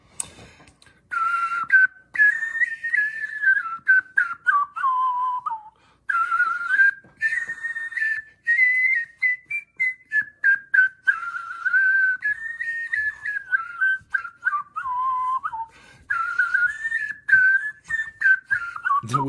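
A person whistles a wandering, melodic tune alone and close by, with pitch sliding up and down in short phrases broken by brief breaths.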